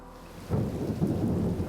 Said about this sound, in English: Then we catch a violent thunderstorm. Lightning and thunder and torrential rain.